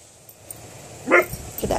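Two young puppies play together indoors, letting out a few short yips and whimpery cries over a low, steady background hiss, the loudest burst coming near the end.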